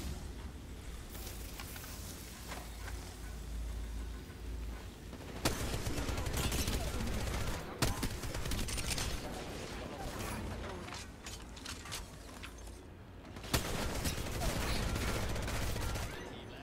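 Video game gunfire: rapid bursts and fusillades of shots with mechanical clatter, fairly quiet and steady, rising into louder volleys.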